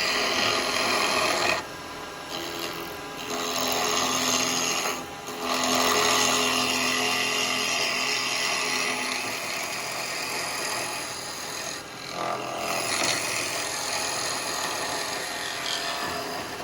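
A woodturning lathe takes gentle cuts on a small live-edge yew bowl held by a tenon, giving a loud, continuous scraping whir that drops away briefly several times between passes, close and with no speech.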